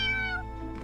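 A cat meows in the video game World's Dawn, one drawn-out, close, clear meow with a softer tail, no talking over it.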